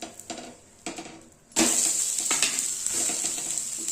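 Besan pola, a gram flour pancake, is flipped in a hot pan with a few scraping taps, then a loud steady sizzle of frying batter that continues close up, with no talking.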